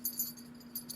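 Sterling silver rings clink together faintly in a few light, close taps spaced across a second, with a steady low hum underneath.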